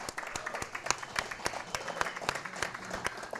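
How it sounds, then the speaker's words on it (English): Audience applause at a high school League of Legends esports tournament, steady scattered clapping from a crowd, moderately distant and even throughout, with no talking over it. "a big round of applause"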